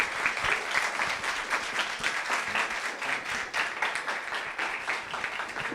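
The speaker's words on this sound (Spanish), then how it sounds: "Les damos un fuerte aplauso a Alondra y a Ángel." Audience applause at a community school project presentation, a dense, even round of clapping from a crowd that holds steady for several seconds without talk.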